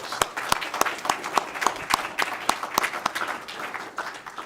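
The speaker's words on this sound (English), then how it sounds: "Let's give them a big round of applause." Applause at a city council meeting: a roomful of people claps steadily, with a few crisp, regularly spaced claps standing out over the continuous patter for several seconds.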